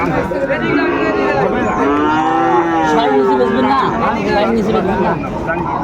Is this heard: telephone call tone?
no